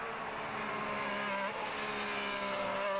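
A Formula 1 race car runs on track, its engine a loud, steady, high-pitched whine that holds for the whole stretch, with no voices.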